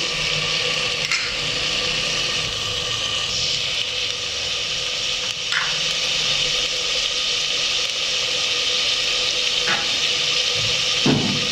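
Mutton pieces frying with garlic cloves in a pan for a mutton masala, a steady close sizzle with occasional stirring and scraping sounds, no talking.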